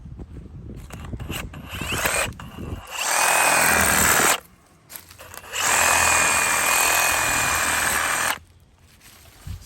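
Power cutting tool slicing through a small half-inch tree root in yard dirt, two sustained loud bursts of buzzing cutting, each about three seconds, separated by short pauses and preceded by quieter handling noise.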